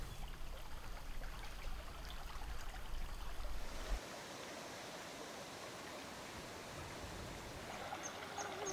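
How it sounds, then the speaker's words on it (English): Cook's Run, a spring creek in Michigan's Upper Peninsula, flows with a constant broad rush and babble of water, steady and unbroken by voices. "Cook's Run is one of the few spring creeks in the Upper Peninsula"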